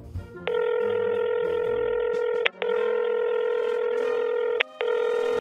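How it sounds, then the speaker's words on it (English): Telephone dialing tones sound during a redialed call: steady multi-tone beeps held for about two seconds each, broken by short gaps, loud and close with no talk. "Okay, I'm going to redial her."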